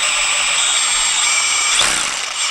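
A Makita brushless reciprocating saw whirs steadily at high speed, loud and close, with a brief shift in pitch near the end and no talking.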